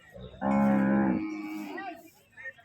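A water buffalo gives one loud, sustained low bellow at a Thai buffalo market in Kalasin, fading into a rougher tail with faint market noise behind it.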